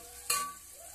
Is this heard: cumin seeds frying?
yes